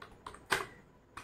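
Keystrokes on a computer keyboard while entering a prompt into ChatGPT, a few sparse taps spread over about a second, fairly quiet and close with no talking.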